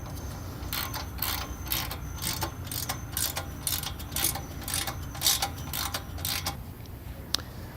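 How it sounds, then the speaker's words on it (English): A socket wrench ratcheting while a marimba frame is assembled, with rapid bursts of close, crisp clicking in an irregular rhythm and short pauses between strokes. "if you're like me and opting for a socket wrench, you will need a 1/2 inch or 13 millimeter."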